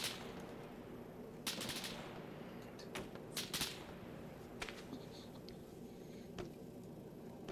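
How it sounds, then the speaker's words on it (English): In the video game Arma 3, scattered bursts of distant gunfire crack over a constant rumbling background, a few sharp shots spaced irregularly across the stretch. "And gunfire."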